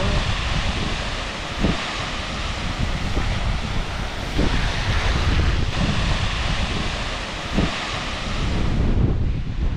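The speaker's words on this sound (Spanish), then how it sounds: "El inicio de la cascada de Cotatuero." Cotatuero waterfall in Ordesa, a steady broad roar of falling water that fills the whole clip, dense and continuous with gusty wind buffeting the microphone and no voices.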